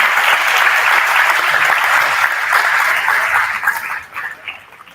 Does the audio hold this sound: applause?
yes